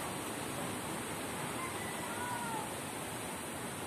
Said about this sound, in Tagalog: Nagaling dun yung hangin.